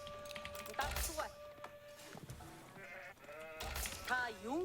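Sheep bleat in the real-time strategy game Age of Empires IV, several short wavering calls spread across a few seconds, with someone talking over them.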